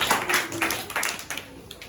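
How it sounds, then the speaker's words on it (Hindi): Children in a classroom clap together during a Hindi grammar lesson on pronouns, a short burst of brisk, uneven applause close by that fades quickly. "ताली बजाओ।"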